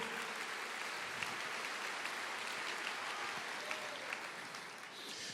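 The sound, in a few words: congregation applauding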